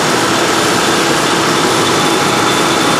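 A 1995 Ford Crown Victoria engine idles on a chilly day, a loud steady mechanical hum and whir close to the engine bay with the fan area nearby, constant and alone without any talk.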